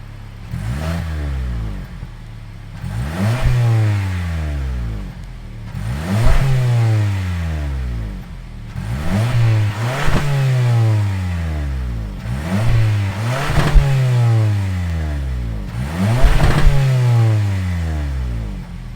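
A 2.5-liter four-cylinder engine in a 2022 Toyota Camry LE revs up repeatedly in bursts, rising and falling in pitch about six times, loud and close with no talking.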